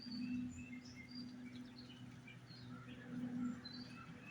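Birds chirping outdoors, a scatter of faint, thin tweets and short calls at a distance over a low, steady mechanical hum, with no talking.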